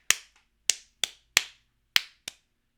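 Hands clapping out a light, happy rhythm, six sharp, close claps in an uneven pattern with short ringing decays and silence between them.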